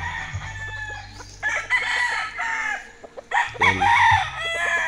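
A six-month-old fighting cock stag crows in a backyard, a clear close crow rising and falling over a few seconds, with other fowl clucking and a low steady hum beneath.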